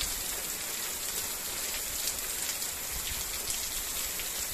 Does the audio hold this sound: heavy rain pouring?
yes